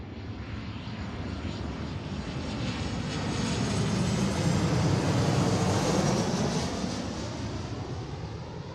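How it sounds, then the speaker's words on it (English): Boeing 737-700 jet arriving on runway 34L at Seattle, a steady loud roar of engine noise and rushing air that swells through the middle as it passes, then eases slightly, with no talk. "Of course, it is a 700 series, but still 737."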